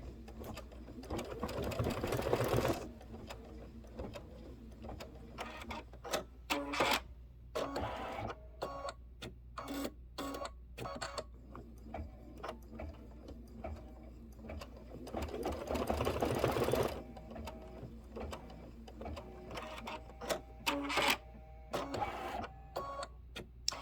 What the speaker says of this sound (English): This is going to do the placement for the ribbon, so let it go ahead and stitch